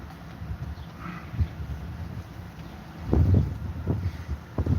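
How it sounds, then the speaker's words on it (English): Strong wind blows beside a lake in the Texas Hill Country, a steady rushing hiss with heavier gusts buffeting the microphone in low thumps. "The wind's blowing so hard"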